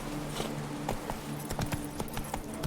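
Horse hooves clip-clop at a walking pace in The Witcher 3, close and moderately loud, with an uneven rhythm over a low steady ambient hum.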